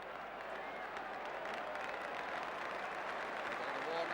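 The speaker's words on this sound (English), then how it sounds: "Getting a warm round of applause from the Highbury crowd." The Highbury crowd at an Arsenal v Spurs football match gives a steady, warm round of applause for a substitution, a broad wash of clapping under a commentator's talk.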